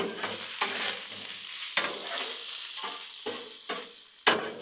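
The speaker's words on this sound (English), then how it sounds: "Get this all covered in that bacon grease and get these things to cooking." Tater tots stirred through bacon grease on a Blackstone griddle, a steady close sizzle broken by several sharp scrape-and-clack spatula strokes, with no voices.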